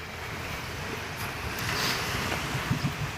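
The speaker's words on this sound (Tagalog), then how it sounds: "So, testingin yung bangkang bagong gawa. Maliit lang makina niyan." The small engine of a newly built boat runs on open water as a steady low rumble with a few deeper thumps near the end, mixed into constant wind and water noise.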